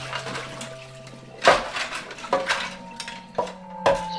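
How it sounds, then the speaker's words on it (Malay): Plates and dishes clatter and clink together in a kitchen as they are pushed aside, a few sharp ceramic knocks over a faint steady hum. "dengar macam ada orang mengenepikan pinggan-pinggan tu"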